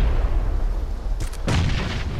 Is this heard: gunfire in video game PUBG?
yes